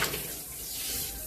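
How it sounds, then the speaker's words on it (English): Water splashing and pouring in a kitchen, a short, continuous broadband wash of liquid spilling at close range with no voices. "I just spilled so much water"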